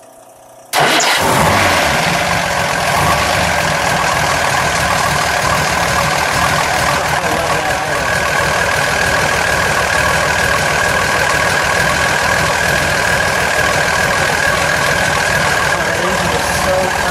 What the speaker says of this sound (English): You can just hit the button and the car will start up.